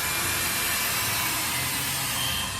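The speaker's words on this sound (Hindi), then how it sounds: "इधर कील लगने हैं। हाँ ड्रिले कराओ जरा।" Power drill boring holes for nails while a goat enclosure is being upgraded, a steady continuous grinding whir running loud and close throughout with no talk.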